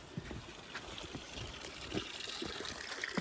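Drinking water from a village spring in Russia runs continuously in a steady, faint trickle and splash, with soft irregular drips over a constant wash.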